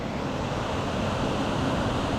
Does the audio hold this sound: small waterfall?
yes